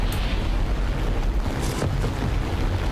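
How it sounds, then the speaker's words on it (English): Bombs dropped on a base in War Thunder from an Ar-196 A-5 floatplane: a heavy, continuous explosive boom and rumble rolls close and loud throughout, mixed with engine and wind roar. "Let's lighten the load by dropping our bombs on this base."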